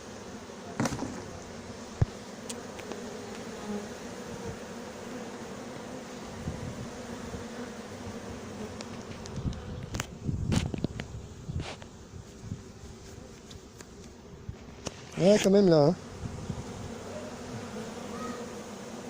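Bees buzzing softly around a horizontal hive, a low continuous hum with scattered nearer passes, while someone speaks a few words near the end.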